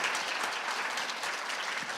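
A conference audience at a plenary session applauds three university presidents, a steady, even wash of many hands clapping at moderate distance, with no voices over it.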